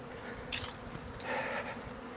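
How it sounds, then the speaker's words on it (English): Honey bees buzz in a steady, busy drone while flying around their hives in a bee yard, with louder swells as individual bees pass close by. "So you can see that all the bees are flying around."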